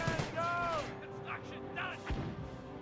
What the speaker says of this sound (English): Oh, mortar emplacement firing away.